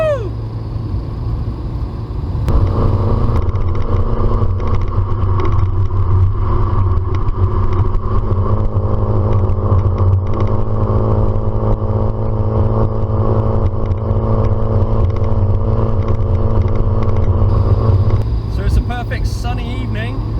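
Porsche 924 engine droning steadily from inside the car while driving on a sunny evening, a loud constant low hum with slight clatter, a sharper shift in tone near the start and a brief change near the end.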